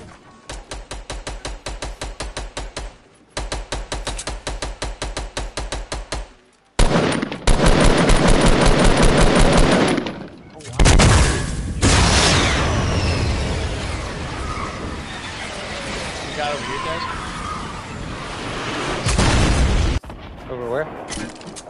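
Fortnite gunfire, loud and close, comes in rapid machine-gun bursts with short pauses, then gives way to a dense stretch of booming shots and heavy rumbling.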